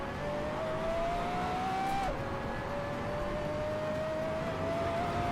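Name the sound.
race car engine in video game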